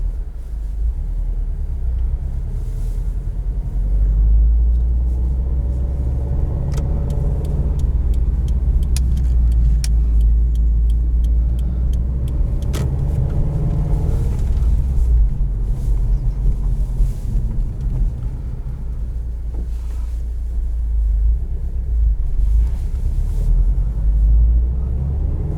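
A 2019 Subaru WRX STI rolls over road bumps, a steady low engine and road rumble with light thumps and rattles scattered through, heard from inside the cabin for the whole stretch with no talking.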